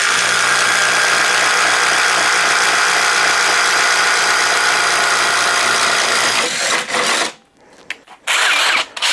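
A Ryobi HP impact driver bores into wood with a 1-inch bit, giving a loud, steady whirring hammer that runs unbroken for several seconds, then cuts off abruptly into a few short, stuttering bursts and quiet gaps.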